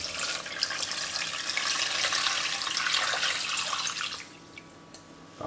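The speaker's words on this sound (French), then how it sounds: "on va rajouter tout le reste de la marinade." Rest of a wild boar daube marinade poured into a cocotte, a steady splashing, trickling pour that holds close and fairly loud for about four seconds, then tapers to faint drips.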